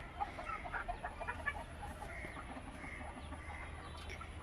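Chickens at a farm, where a hen has hatched chicks, cluck faintly in scattered soft calls over a steady low background hum, with no voices.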